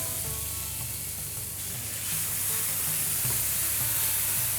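Tomatoes dropped onto curry leaves and sesame seeds in hot oil for an Ayurvedic sattvic meal, a steady close sizzle and crackle that swells louder partway through, with no talking.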